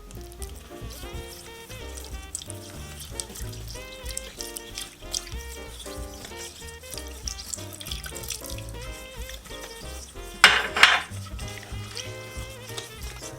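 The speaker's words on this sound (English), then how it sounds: "Now we have to slowly add 1/4 cup of hot water." Hot water pours steadily into a pan for hot cocoa with a soft hiss, over background music, with a brief louder splash near the end.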